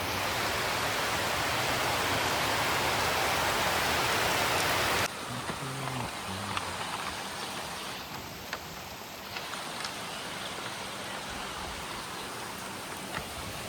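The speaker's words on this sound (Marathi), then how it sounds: "मुसळधार पाऊस सुरू झाला आहे." Heavy rain pours down steadily near a hotel by a small river in Kaziranga National Park, Assam, a dense loud hiss that drops to a softer patter with scattered drips partway through.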